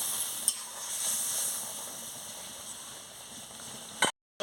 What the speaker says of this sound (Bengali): ঢেঁড়সগুলো দিয়ে ভালো করে ফুটিয়ে নিচ্ছি